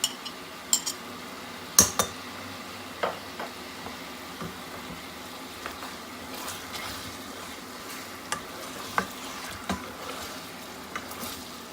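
Onions and ginger-garlic paste fry in a pan with a soft, continuous sizzle, punctuated by occasional clinks and scrapes of a utensil stirring against the pot.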